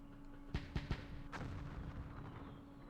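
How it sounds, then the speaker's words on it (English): Mortar and machine gun fire in the Campaign Series Vietnam game's Dien Bien Phu battle: three sharp, quick reports in close succession, then one more burst, over a low background hum. "Mortars, machine guns."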